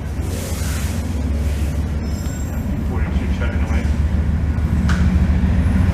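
A VIA Rail passenger train bound for Toronto, pulled by a smoky diesel locomotive, roars past close by in Cornwall with a loud, steady low rumble and rattle throughout.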